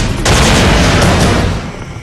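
Gunfire from a police shootout with a suspected motorcycle thief at night in Plaridel, Bulacan: a loud, dense burst of sharp cracks and rumbling blasts filling about two seconds, easing slightly at the end.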